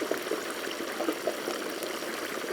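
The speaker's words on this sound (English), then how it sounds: "You can hear it bubbling, you can hear it popping." Hot oil bubbles and pops around a turkey being deep fried, a steady, dense rush with small crackles scattered throughout and no voices.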